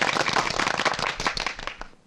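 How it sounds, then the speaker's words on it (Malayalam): A crowd claps at the opening of a small studio branch. The applause is dense and loud and runs for about two seconds before tapering off at the end. "എല്ലാവരും ഒന്ന് കൈയടിച്ച്."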